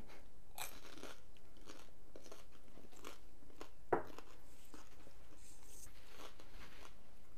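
Crisp crunches of someone biting into a fried spring roll, followed by steady close chewing, with a sharp louder crunch midway.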